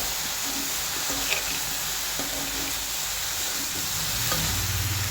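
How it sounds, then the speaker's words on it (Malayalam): Curry with chopped tomatoes, green chilies and curry leaves sizzles in a pan while being stirred, a continuous close frying hiss with soft scraping and occasional spoon knocks. "നമ്മളതിലിട്ട് കൊടുക്കുക കുറച്ച് വേപ്പില വീണ്ടും നന്നായിട്ടൊന്ന് ഇളക്കി യോജിപ്പിക്കുക"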